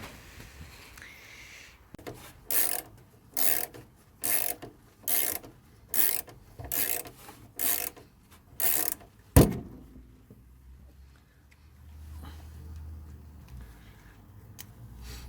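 Ratchet working loose the top nut of a shock absorber on a VW T3 van, heard as about nine evenly spaced bursts of clicking up close, ending in a sharp knock, then quiet handling.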